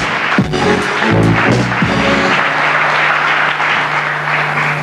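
Studio audience applause on a television talk show, a loud dense wash of clapping with a few low thumps early on, continuing steadily throughout.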